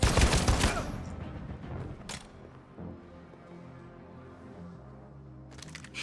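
Gunfire in the video game Detroit: Become Human, a loud rapid fusillade at the opening followed by a single sharp crack, then quieter mechanical sounds and another burst at the end.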